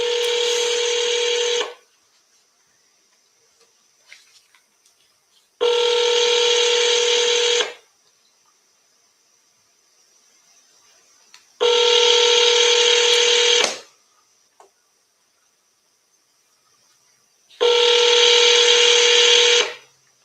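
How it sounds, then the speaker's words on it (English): Four evenly spaced telephone ringback tones, each about two seconds long with a four-second silent gap between them, clear and close on an outgoing sales call. "we're gonna double dial"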